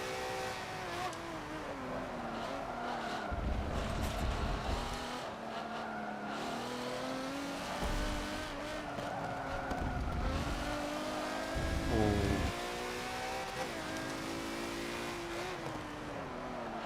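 A Ferrari race car engine in Forza Motorsport 7 climbs Eau Rouge at Spa, holding a steady, high-revving drone with rising pitch sweeps and brief shift dips, close and continuous throughout.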